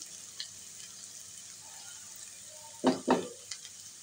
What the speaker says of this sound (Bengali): প্রথমে আমি তেল দিয়েছি, তেলের মধ্যে একটু জিরা দিয়েছি আর বেশ পরিমাণ একটু পেঁয়াজ কুচি দিয়েছি, তারপর দিলাম রসুন থেতো করা